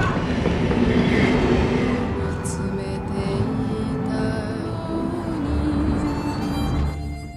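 A train rumbles along steadily, with rolling low noise, faint clatter and occasional squeaks, fading out near the end.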